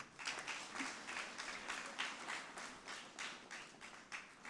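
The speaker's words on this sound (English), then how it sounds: "One round of applause to Prof." Quiet round of applause for a professor at an awards event, distinct claps pulsing in an uneven rhythm, fairly faint and distant.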